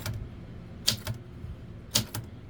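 Keys of a 1912 Harris Visible No. 4 antique typewriter striking, a few sharp metallic clacks spaced about a second apart, close and fairly quiet.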